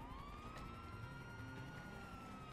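Wailing police car sirens in the GTA V video game, several overlapping tones rising and falling continuously, fairly quiet beneath a steady background rumble.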